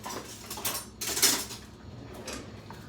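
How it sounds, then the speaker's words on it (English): A metal spoon clinks lightly against dishes in a home kitchen during peach cobbler prep, a few brief faint taps with one sharper clink in the middle. "And I'm gonna get a spoon."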